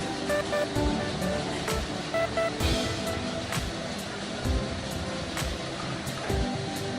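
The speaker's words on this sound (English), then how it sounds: "He has never stopped working gas in the electric machine and is roasting coffee beans." An electric coffee roaster turns a batch of beans for Turkish coffee, giving off a steady broadband whir and rumble with faint mechanical tones and soft irregular knocks from tumbling beans throughout.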